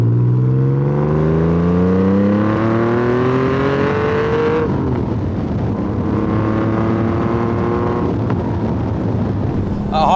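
A car powered by a Speed 6 engine revs hard through rising gears, the loud engine note climbing steadily, then easing and building again, with a voice talking over it.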